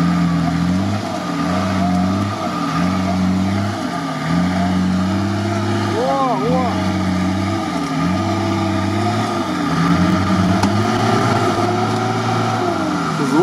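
An off-road SUV engine labours over rough terrain, a loud, close, low growl rising and falling in steady revving surges of about two seconds each, with a faint whine riding above it.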